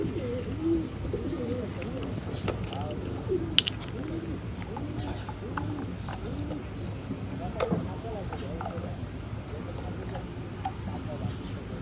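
Pigeons coo repeatedly in soft, rolling calls, several birds close by, over a low background hum.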